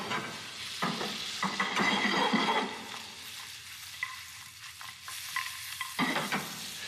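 Butter froths and sizzles steadily in a pan for lamb chops and glazed vegetables, stock splashing in with a brief burst of bubbling, close and loud with stirring scrapes and no talk.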